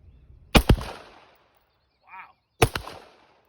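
Handgun fired with cheap, dirty ammunition at a shooting range: two sharp, loud reports about two seconds apart, each with a short echoing tail, and a faint mechanical sound between them.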